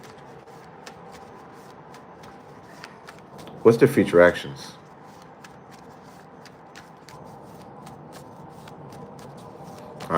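Tarot cards are riffled in a short burst of shuffling in the middle, fairly close, while a person talks quietly across the whole stretch.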